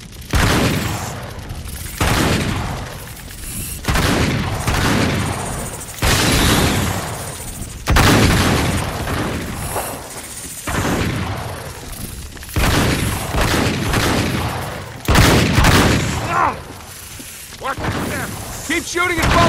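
Repeated bursts of gunfire in Uncharted 3: Drake's Deception, loud, close and heavy, arriving in clustered volleys every couple of seconds with booming impacts, while voices shout between and over the shots.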